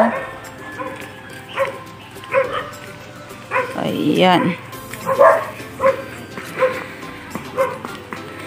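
Several dogs bark in short repeated bursts, some yipping and whining, at moderate distance near a beach in Albay, Philippines, while a person speaks briefly over the noise.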